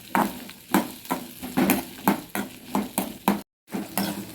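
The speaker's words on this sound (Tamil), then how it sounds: "இப்போ அந்த எண்ணெயிலே நம்ம கோவக்காய் இது மாதிரி கொட்டி நல்லா அதிலே வறுத்துட்ருலாம்" Ivy gourd (kovakkai) pieces frying in hot oil in a pan, with steady sizzling broken by about ten regular stirring scrapes that rise and fall, close and clear, with no talking.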